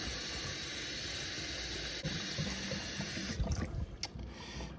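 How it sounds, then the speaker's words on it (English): The barrel of a TWSBI ECO fountain pen is swished through water to rinse out ink, a soft continuous sloshing and trickling close by, growing choppier near the end. "I'm going to put it into some water. Try and get rid of this one that has a bunch of ink in it."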